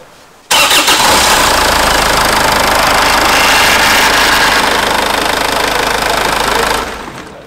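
A car engine cranks and catches suddenly on its first start in three years, then runs at a loud, steady idle with a slight knocking rumble before fading at the end.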